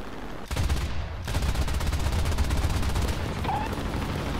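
Sustained rapid aircraft gunfire in War Thunder, a dense burst of machine-gun and cannon shots starting abruptly and continuing loud and unbroken for several seconds.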